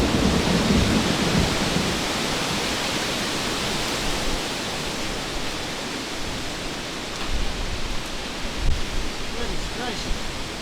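A strong thunderstorm at a rural homestead, with steady heavy rain roaring throughout and deep rolls of thunder rumbling in the later part. No voices can be heard.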